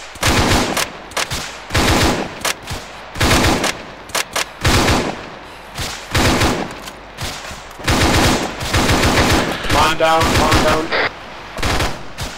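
Rapid bursts of automatic rifle and machine-gun fire in a military video game, loud and close, repeating in clusters across the stretch, with a player's brief shout between volleys.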